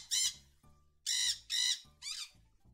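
A cartoon bird in the Donkey Kong Country video game gives four loud, harsh squawks in quick succession, separated by short gaps of quiet game sounds.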